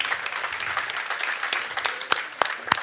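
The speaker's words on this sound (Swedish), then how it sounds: "en applåd ska han ha" Brief applause from an audience for a contestant at a Swedish competition heat in Halmstad, a crisp steady patter of clapping with a few louder claps near the end.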